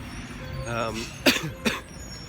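A voice murmurs briefly, then two sharp coughs follow close together, with faint traffic rumble in the background.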